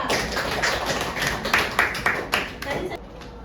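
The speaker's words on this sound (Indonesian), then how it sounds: "Tepuk tangan buat kelompok 2" A classroom group claps together for a few seconds, a dense run of hand claps under a teacher's voice before it tapers off.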